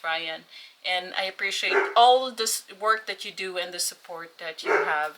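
A dog barks indoors in a few short bursts that are partly masked by someone speaking steadily over them.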